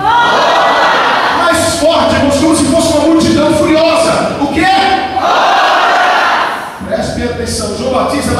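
A large church congregation shouts loudly together in a sustained roar of many voices, with brief dips between surges, close and dense throughout.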